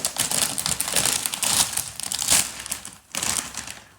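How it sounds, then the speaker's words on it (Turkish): A bag of Doritos chips is torn open and handled, producing loud, close crinkling and crumpling plastic noises that continue for about four seconds with a brief pause near the end. "Arkadaşlar Doritom'uzu açalım ki bunları deneyelim."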